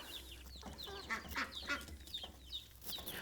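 Mother hen clucking softly while pecking feed from a hand among other chickens, a scatter of faint, low clucks and small chirps at close range.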